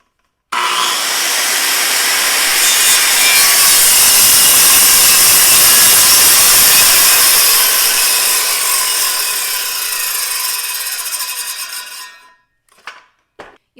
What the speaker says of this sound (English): Once you make your cut, you are just going to have your circular saw sit there until the blade stops spinning.